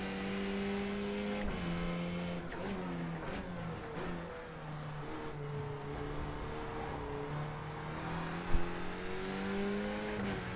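Race car engine drones steadily in iRacing, its pitch rising and falling through gear changes, with a faint thump near the end.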